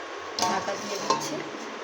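A lid goes onto a pot of simmering fish curry with drumsticks and eggplant, giving two light metallic clinks over a steady soft sizzle from the stove.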